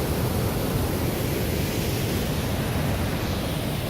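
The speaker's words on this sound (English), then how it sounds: "this is the falls just at the side of the Lanark" A waterfall beside Lanark roars as a dense, steady rush of broadband water noise, loud and close, with no voices over it.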